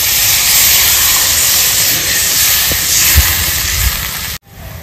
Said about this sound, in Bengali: এবার দিয়ে দেবো ডাবের জলটা।